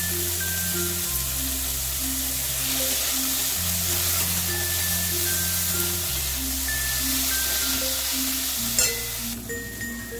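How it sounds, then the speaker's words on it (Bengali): Tomatoes, salt and turmeric frying in a pan for a spicy amudi fish curry, a loud continuous sizzle filling the whole stretch with a faint clink of stirring near the end, while background music plays along. "গ্যাসের আঁচ কমিয়ে আমি একটু নাড়াচাড়া করলাম"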